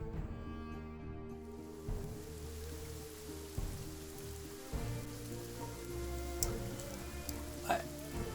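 Rain patters steadily on a surface under a low droning musical bed, with scattered ticking drops throughout the wet, dark-weather ambience.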